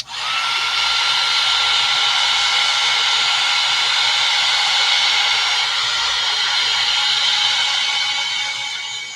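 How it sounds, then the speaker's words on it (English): A dryer blows hot air to dry paint on a wooden advent calendar, a loud, steady, close whooshing roar that runs unbroken for about nine seconds and tapers slightly at the end, with no talking. "So I'm gonna go back in and actually dry this first, Nancy."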